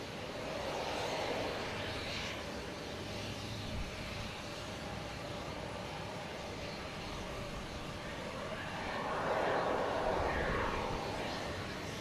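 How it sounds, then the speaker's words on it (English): An Avianca Airbus A320neo jet takes off at Boston Logan Airport, a distant broad engine roar that holds steady, then swells louder near the end. "Avianca going to San Salvador. An A320neo."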